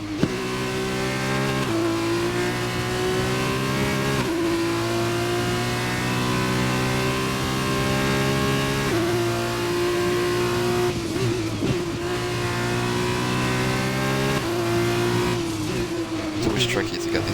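A race car engine in rFactor 2 revs hard at the Austrian GP circuit, holding a steady, loud high-pitched drone with repeated shifts and dips in pitch through corners, with commentary running over it.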